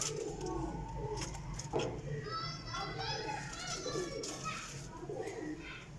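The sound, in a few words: pigeons cooing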